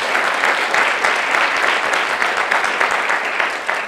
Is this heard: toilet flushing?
no